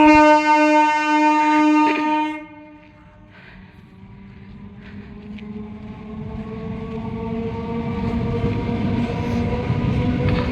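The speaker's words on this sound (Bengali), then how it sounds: "কথা শেষ হতে না হতেই ট্রেন ঢুকছে" A local train pulls in at a signal with a sustained tonal horn blast lasting about two seconds, then a building rumble and rolling of the carriages close by.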